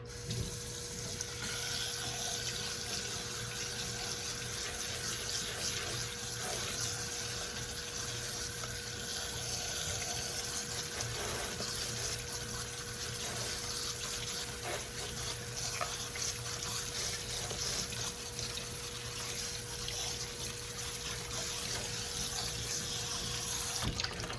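Tap water runs into a kitchen sink in a steady, unbroken stream while food is rinsed, a constant close hiss and splash for the whole stretch.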